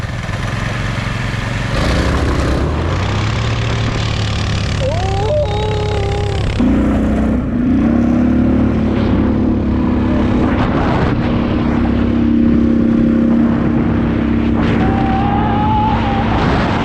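Scooters with GY6 and Predator engines drag race outdoors, small motors buzzing and droning; one engine's pitch climbs as it revs and pulls away, then a sustained high whine carries on at moderate distance.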